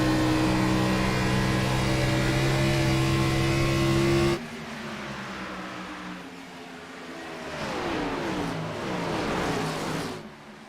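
Race car engines drone in a sim racing video game set at the Monster Mile oval, one loud steady engine tone cutting off abruptly into quieter revving cars rising and fading.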